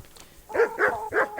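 Dogs bark in Kingdom Come: Deliverance, four sharp barks in a fairly even rhythm, close and loud against a quiet background.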